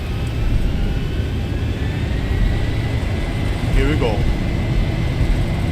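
Boeing 737 jet engines spooling up to full takeoff power in the X-Plane flight simulator, a steady loud broadband roar holding throughout with a voice speaking briefly over it.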